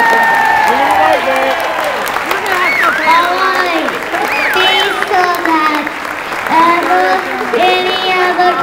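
An audience claps hands through a stage show, dense sustained applause with voices talking and calling out over it from start to finish.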